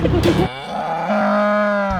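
A person imitates a cow's long drawn-out moo while acting out bringing in cows, a single sustained lowing call that follows a brief burst of other noise.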